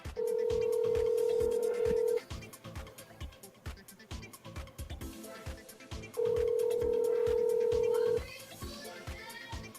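Telephone ringing tones in two long steady bursts, with gaps between, over busy background music and household noise during a call forwarded to an automated message.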